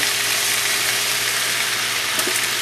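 Mushrooms, peppers and garlic sizzle steadily in a hot pan for Chicken Marsala, a close, even frying hiss with a faint clink of stirring near the end.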